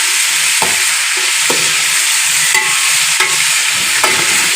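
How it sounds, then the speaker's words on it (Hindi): Garlic-ginger paste and turmeric fry in a spoonful of hot oil, giving a steady, loud, close sizzle with periodic scraping clicks of a stirring spoon. "ये देखिए अच्छे तरीके से फ्राई हो जाता है"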